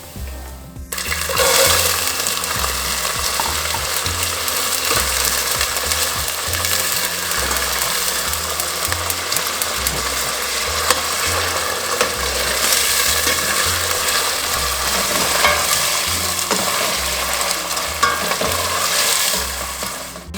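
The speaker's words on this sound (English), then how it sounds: "You can see now I add the garbanzos, chana is in there" Garbanzo beans (chana) tumble into browned, golden frying onions and get stirred, a loud continuous sizzle with rhythmic scraping of the spoon against the pan, for vegan chickpea rice.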